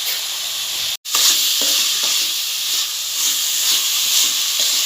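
Melted jaggery with cardamom powder being mixed in a pan, a steady hissing sizzle with soft stirring scrapes after a brief cut-out near the start, no talk.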